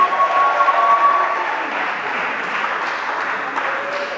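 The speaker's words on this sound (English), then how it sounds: "Please give him a round of applause once again" An audience at a debate session gives a steady round of applause that starts loudest and continues evenly for several seconds at moderate volume.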